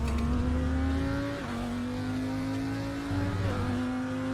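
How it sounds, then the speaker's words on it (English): A GT2 race car in the RaceRoom racing game revs hard. The loud, close engine note climbs smoothly through the rev range, with a couple of brief dips at the gear shifts. "revs cleanly all the way through the rev band."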